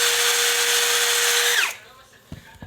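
A wind generator built from a treadmill motor spins up under a cordless drill, giving a loud steady whine that cuts out after about a second and a half, followed by faint clicks and handling noise.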